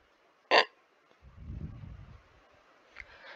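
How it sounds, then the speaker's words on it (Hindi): A single sharp hiccup in a Hindi children's story about a girl who ate too many kachoris, a brief loud burst followed by soft low rumbling and faint rustles. "रमा को जोर जोर से हिचकियां आने लगी।"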